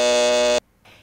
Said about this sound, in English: just as the buzzer goes off